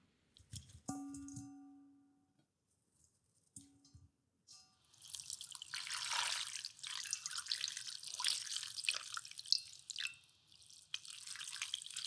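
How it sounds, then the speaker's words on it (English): Cold water runs and splashes steadily from a tap over broccoli for several seconds, with some clinks and handling noises near the start before the flow begins. "Wash broccoli thoroughly with cold water."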